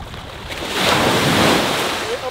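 Ocean surf washes onto a beach on Cijin Island, Taiwan, a loud, broad rushing swell that builds and recedes, with wind buffeting the microphone.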